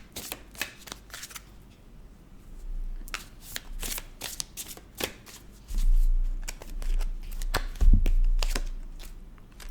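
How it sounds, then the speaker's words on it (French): Oracle cards being shuffled and drawn by hand, quick papery riffles and flicks in uneven bursts, with soft thumps and card handling toward the end. "on va juste prendre une petite carte ici de l'oracle des sortilèges"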